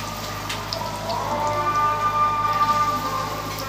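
Cabbage pakoras frying in hot oil in a pan, a continuous close crackling sizzle with fine pops scattered through it, steady and fairly loud throughout.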